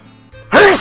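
A single short, loud sneeze bursts out close to the mic after a soft breathy intake.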